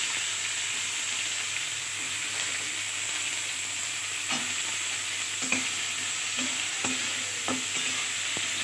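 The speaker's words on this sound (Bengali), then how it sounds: "আমি ওই তেলের মধ্যেই সবজিগুলো ভেজে নেব।" Vegetables fry in oil for chirer pulao, a steady loud sizzle with a few sharp scraping stirs of the spatula near the end, no voices.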